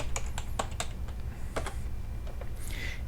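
Brisk typing on a computer keyboard, a few sharp close keystrokes in quick bursts with short gaps, low background hum and no speech.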